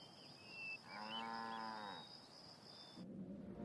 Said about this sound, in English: the dairy cow